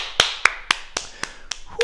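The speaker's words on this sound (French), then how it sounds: "Et on s'applaudit encore." An adult martial arts class claps together in a series of about seven sharp, evenly spaced claps in unison, close and distinct, with no talking.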